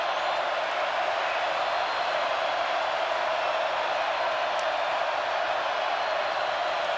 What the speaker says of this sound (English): And this crowd is starting to amp it up.